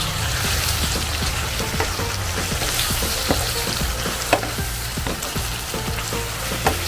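Chili garlic tumbong, pork intestines with chili and Worcestershire sauce, sizzles steadily in a hot pan while being stirred, with scattered clicks of the utensil against the metal over the continuous frying hiss.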